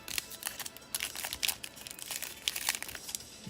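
A foil trading card pack is crinkled and torn open by its flap during a live card shop break, with irregular close crackling bursts and no talk.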